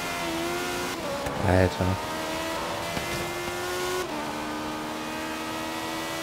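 Racing cars in the video game Forza Horizon 3 roar with steady, continuous engine drone and shifting revs, with a brief burst of tire squeal, while someone talks over the action.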